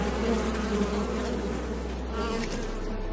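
Bees buzz in a desert scene from Blade Runner 2049, a dense, steady drone that fills the whole stretch with no speech, accompanied by a low hum that drops away partway through.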